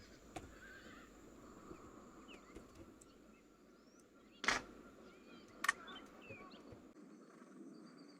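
Dragoon cavalry horses in the video game Empire Total War give faint whinnies and scattered hoof clops over a quiet outdoor ambience with birdsong, with two sharper bursts standing out midway.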